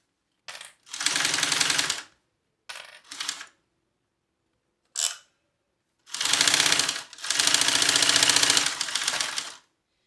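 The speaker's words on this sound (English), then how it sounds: "now we're going to sew around the whole thing at 1/8 of an inch seam allowance" A sewing machine stitches around a small wallet in separate bursts, short stops at first, then two long runs of rapid, close, clattering needle chatter with silence between.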